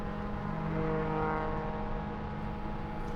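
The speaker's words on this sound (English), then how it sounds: "So there goes our friend in the orange and white Porsche." A race car engine drones steadily and fairly loudly at a road-racing event, with an orange and white Porsche going by on track. The tone shifts slightly as it passes, and nobody speaks.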